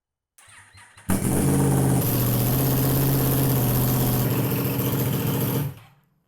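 A Yamaha R1 superbike engine with no muffler fitted sputters, then catches and roars loudly, holding a raw, throaty rev for several seconds before cutting off abruptly into silence.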